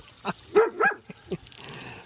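Dogs at a home with a pool barking in a quick run of several short, loud woofs, then tapering into faint background noise, with no talking.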